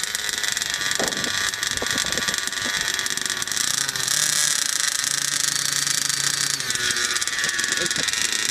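Small gas engine of a 5th scale RC car running steadily during break-in, a continuous buzzing drone at near-constant loudness with slight shifts in pitch, close to the microphone, no talking.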